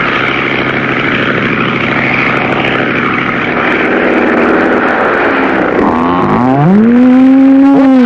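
Cartoon propeller airplane flying low over a field, a loud steady droning engine roar throughout that rises in pitch near the end as the plane banks or swoops close by.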